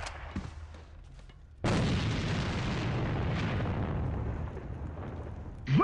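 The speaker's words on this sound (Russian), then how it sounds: "Бросаю гранату." A grenade explosion in the shooter game A.V.A: after a quieter stretch of gunfire, a sudden loud blast erupts and rolls on as a long rumbling roar, ending with another sharp burst.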